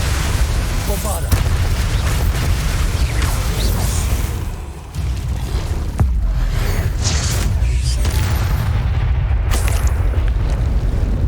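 A Bombarda spell blasts in the Hogwarts Legacy video game amid continuous loud combat, with dense booming, rumbling explosions and sharp impacts throughout, briefly easing before surging again.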